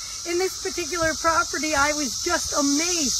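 A chorus of 17-year periodical cicadas (Magicicada cassinii, Brood X) makes a high, steady outdoor buzz under a man's close, loud talk.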